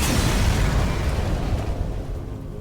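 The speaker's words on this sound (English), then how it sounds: "when the ship blows up" An enemy ship exploding in FTL: a loud, dense, rumbling blast that stays heavy throughout and eases only slightly toward the end.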